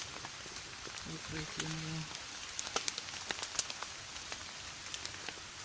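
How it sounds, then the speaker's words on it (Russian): Steady rain falls outside a dry, warm shelter beside a campfire, a soft continuous hiss with scattered close drip taps; a voice speaks briefly early on. "Дождик. Кайф. Классно. Там дождь."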